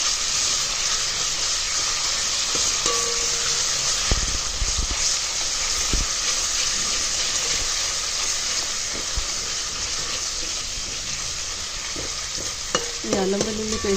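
Ginger garlic paste frying in a pan for spicy chicken curry, stirred steadily with a ladle: a continuous loud sizzle with soft scraping strokes throughout, no talking.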